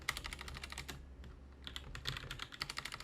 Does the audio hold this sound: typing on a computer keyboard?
yes